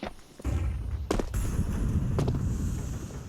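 Smoke grenades landing and hissing out in a Counter-Strike match, a couple of sharp pops followed by a steady loud rushing hiss that fills the rest of the moment.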